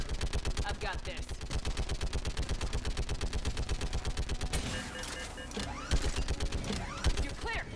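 Turret gunfire in Mass Effect 3, a fast steady stream of heavy automatic shots that runs unbroken, then breaks into a noisier stretch of mixed battle sounds and impacts.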